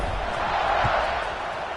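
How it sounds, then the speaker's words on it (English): A football stadium crowd buzzes right after a touchdown, a steady, dense roar of many distant voices filling the space without any single clear speaker. "this crowd is buzzing after that last score"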